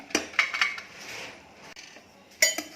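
A stainless pressure cooker of moong dal khichdi being opened in a kitchen gives a few sharp metallic clinks and clanks of the lid and utensils, close and fairly loud, with quieter handling between them.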